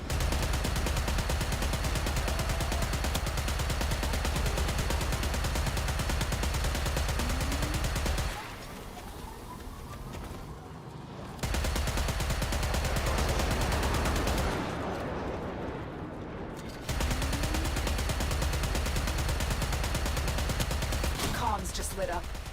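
Sustained rapid gunfire from the video game Warframe, loud and dense, in long bursts broken by two short pauses, with other game sounds between bursts.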